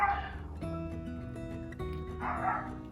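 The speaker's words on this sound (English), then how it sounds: "that's the neighbor's dog, what you're hearing." A neighbor's dog barks and yips nearby in short bursts, its voice rising into whimpering howls, heard from indoors with a low room hum beneath it.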